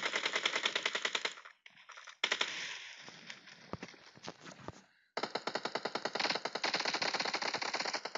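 An MP5K submachine gun in PUBG Mobile fires long rapid automatic bursts with a steady rattling rhythm, loud and close, separated by short pauses and quieter stretches of softer game sound.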